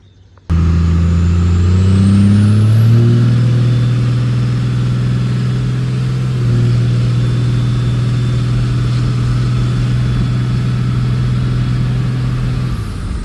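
A 12-valve Cummins diesel pickup engine starts up and pulls away, a loud, steady low rumble that rises briefly in pitch as the truck gets moving, heard close and continuous.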